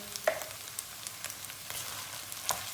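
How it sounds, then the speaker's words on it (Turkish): Tomato paste sizzling with onions in a pan for a Turkish onion bread stew, a steady soft fry with a few sharp stirring clicks and spatula taps, close and moderately quiet, no voices. "Buna bir yemek kaşığı domates salçası atıyoruz"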